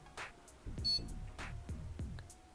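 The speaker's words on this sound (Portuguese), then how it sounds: "Plaquinha aqui, ó, já deu bip." A computer motherboard gives a short, high electronic POST beep at power-up, heard once near the start amid close clicking and handling noises from the desktop build with a new CPU cooler.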